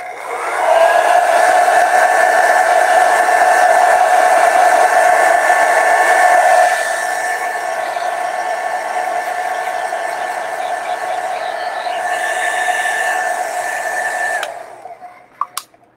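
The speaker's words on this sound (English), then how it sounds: "I'm just going to go over it with a blow dryer quickly, just so nothing is wet" A handheld blow dryer runs over a wet watercolor painting of an orchid, a loud steady whirring hum that drops in pitch partway through, then cuts off near the end with a couple of clicks.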